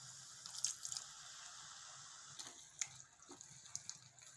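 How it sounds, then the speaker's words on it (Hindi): A little water is poured into cashew paste masala frying in a pan, giving soft splashes and drips over a faint, quiet sizzle, with no talking. "अब हम इसमें थोड़ा सा पानी डालेंगे।"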